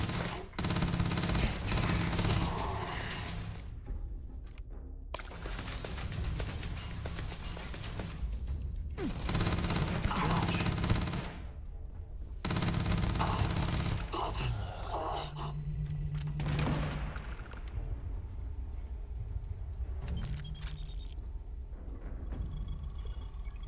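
Enemy gunfire in the Starfield video game, repeated bursts of rapid automatic shots coming in several loud volleys separated by brief lulls, with no talking.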